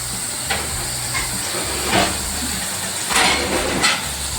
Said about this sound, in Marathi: आधी लो गॅसवरती आपल्याला हा मसाला शिजून घ्यायचा आहे